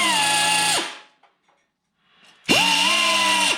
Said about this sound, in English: it makes it a challenge when you're using this little belt sander to try to get into that